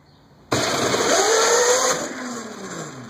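Engine of a 24-volt ride-on vehicle suddenly kicks in and accelerates hard, a loud rising whine that holds steady then eases off slightly toward the end, with no talking over it.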